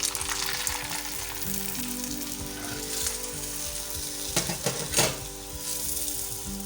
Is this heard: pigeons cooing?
no